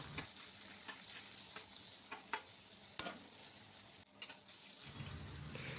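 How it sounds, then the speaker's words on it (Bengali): Chopped onions frying in hot oil in a wok, a steady close sizzle with scattered sharp ticks and scrapes of stirring throughout, no talking. "এইবার ওই কড়াইতেই আমি একটু তেল গরম করে তার ভেতরে দিয়ে দিলাম পেঁয়াজ কুচি"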